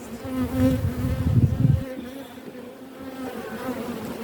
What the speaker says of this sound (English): a lot of the bees are out at this stage because they're out foraging for food